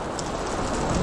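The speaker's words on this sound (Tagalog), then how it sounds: "Todo ang ulan." Heavy rain pours down steadily, a loud, dense hiss of drops drumming on surfaces close by, with no talk.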